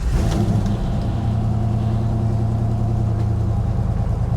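A 1964 Pontiac GTO V8 idles with a deep, steady rumble, loud and close from inside the car, holding an even throb without voices.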